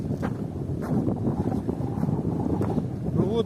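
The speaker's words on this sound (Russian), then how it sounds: "Я надеюсь, меня будет слышно, потому что ветер усиливается." Strong wind blows across a lakeshore near Kachkanar, a steady, blustery roar buffeting the microphone without a break.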